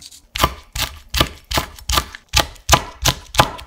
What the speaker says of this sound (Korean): 통마늘 3개는 잘게 다져서 담고 청양고추 1개는 반을 갈라 쫑쫑 썰어